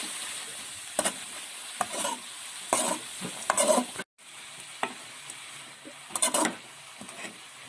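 Spinach being stirred with salt in a pan for cheera thoran, repeated scraping and tossing strokes in clusters over a low sizzle, close and fairly loud, with a brief gap midway and no talk.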